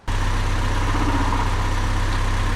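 A Honda engine fitted with a Skunk2 intake manifold fires up and settles straight into a steady, loud idle with a low, even rumble and no talk.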